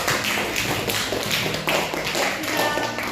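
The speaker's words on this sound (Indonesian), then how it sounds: "Oke, tepuk tangan untuk semuanya." Pupils clapping together in a classroom, a dense, continuous patter of many hands at close range, loud and sustained without pause.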